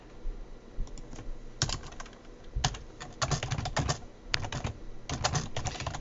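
Computer keyboard typing while editing a Google Docs document: irregular bursts of close, crisp key clicks with short pauses between runs, no voices.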